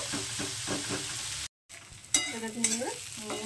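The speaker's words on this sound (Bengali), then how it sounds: "উচ্ছেটাকে অর্ধেকটা ভাজবো, মানে মোটামুটি ভাজা হবে" Bitter gourd frying in a pan while being stirred, a loud close sizzle with rhythmic scraping strokes of a spatula, briefly cut off by a moment of silence before resuming.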